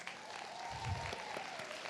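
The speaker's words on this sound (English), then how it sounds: "let's give them a round of applause" At a nursing college pinning ceremony in South Jordan, rising nursing students and the crowd applaud their families, a steady, fairly faint wash of clapping from a large room, with a low murmur beneath.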